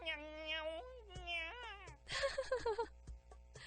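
A black cat that has tumbled into a salad bowl in a Steam otome game meows in several drawn-out, wavering cries, then a rapid run of shorter, rougher yowls, close and clear with no talk.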